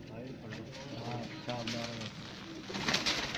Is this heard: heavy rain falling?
no